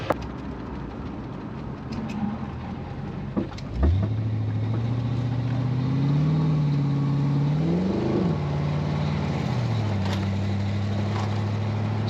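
A rusted 1987 Ford Mustang convertible with a repaired transmission pulls away on a test drive: quiet cabin rumble, then a sudden loud engine note at about four seconds that climbs and falls as it shifts through gears, steady and close.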